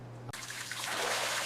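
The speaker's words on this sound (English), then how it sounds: "Now you remove the hot water before serving it" Hot water pours off freshly cooked pasta into a drain, a steady splashing trickle that starts suddenly after a brief low hum and continues close and clear, with no talk.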